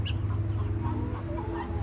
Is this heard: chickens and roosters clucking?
yes